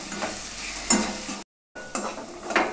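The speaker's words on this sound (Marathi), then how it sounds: "आता हे परत एकदा चांगलं मिक्स करून घ्यायचं" Raw green mango pieces are stirred with ground coriander-cumin, salt and spices in a pan, giving close scraping and soft sizzling strokes in bursts, with a brief silent gap midway and no voices.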